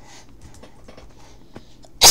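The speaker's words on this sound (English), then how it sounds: "just sneezed." A single sharp sneeze bursts out loud at the very end, after a stretch of quiet room tone during a video game session.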